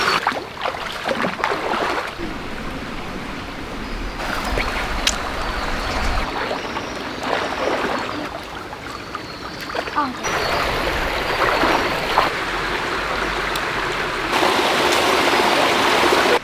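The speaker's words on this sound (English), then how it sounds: "We made it to this little creek here" A small creek near Coffs Harbour tumbling over rocks, with a continuous close rushing and gurgling of water that swells and eases over the whole stretch.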